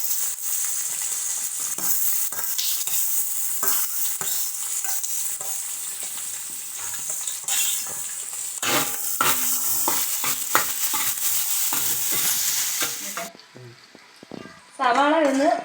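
Chopped onions fry and get stirred in a pan for a village-style chicken curry, a steady close sizzle with repeated scraping strokes, continuous for most of the span before a brief change near the end.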